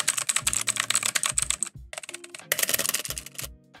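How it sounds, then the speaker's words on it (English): Fast, clicky typing on a Redragon Kumara mechanical keyboard with blue switches, sharp, bright keystrokes in quick bursts, a short pause midway, then more rapid clacking, close and loud. "So this is regular typing."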